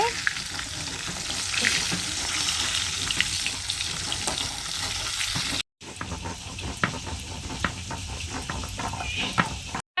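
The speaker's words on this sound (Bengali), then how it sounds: "বড় কাতলা মাছের মাথা ভাজা হচ্ছে" A large catla fish head fries in oil, crackling and sizzling loudly and continuously up close, with brief stirring clatters and a short break partway through.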